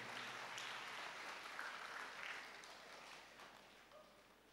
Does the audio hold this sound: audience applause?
yes